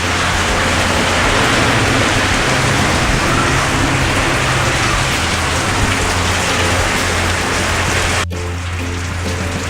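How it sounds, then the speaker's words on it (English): Heavy, steady monsoon rain with lightning and thunder in Arizona pours loudly and without a break, with low rumbling underneath, and a sudden dip near the end. "Rain, lightning, thunder, still going on."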